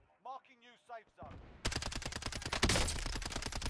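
Rapid automatic gunfire from Call of Duty: Warzone on Rebirth Island, a dense burst of sharp shots beginning after a short stretch of a voice speaking, with loud cracks continuing to the end.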